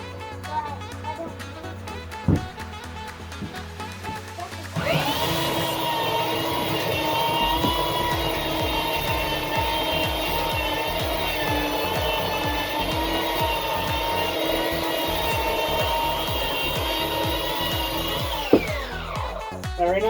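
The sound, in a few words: Harbor Freight Chicago Electric 3x21 belt sander running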